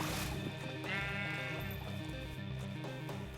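A Minecraft sheep lets out a wavering bleat, a single clear call near the start followed by softer game ambience and background music.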